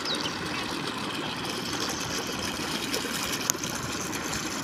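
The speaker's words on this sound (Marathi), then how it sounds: "पाणी चालू आहे आता आपल्याला कोथिंबीरीवरती." Pumped water pours steadily onto a summer coriander field with spinach growing in it, a constant rushing wash with a faint engine hum beneath, unbroken and fairly loud throughout.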